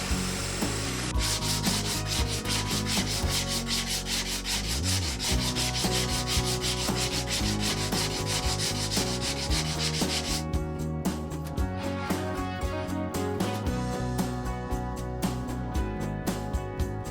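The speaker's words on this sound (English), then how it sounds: "Then I sand the rough edges and inspect the bond between the boards." Wooden boards being sanded along their rough cut edges after jigsaw cutting, a steady close abrasive rubbing and scraping that runs continuously throughout at a constant level, with no talk.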